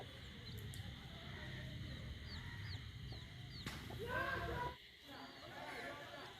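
Native country chickens clucking and cheeping close by, with repeated short calls over a steady background murmur and a person talking in the clip.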